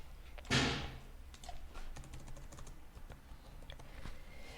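Typing on a computer keyboard while writing HTML code, a stream of soft, close key taps at an irregular pace, with a louder thump near the start.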